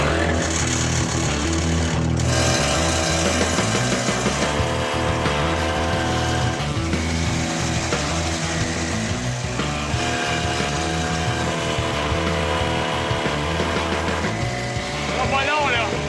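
Engines drone loudly and continuously from a water pump and a drill working together at a fire hydrant installation site, a dense mechanical roar with voices speaking over it at times.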